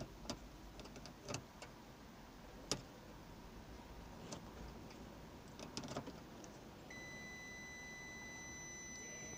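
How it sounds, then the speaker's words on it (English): A Nissan Micra boot lock mechanism is tested, and a few faint clicks and ticks are followed by a thin, steady electronic beep that holds at low volume until the end. "you will hear a beep"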